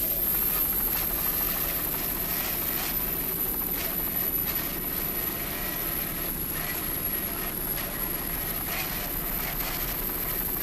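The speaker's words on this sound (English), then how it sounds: "we've got Paul's lovely fiancee, Jennifer, in our Freeze Frame Video helicopter watching this race" Helicopter flying over the 1996 Key West World Championships powerboat race, a steady broadband rotor and engine roar that holds loud and continuous from start to end, with no talk over it.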